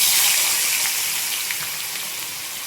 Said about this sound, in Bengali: আলুটা ভাজবো এবার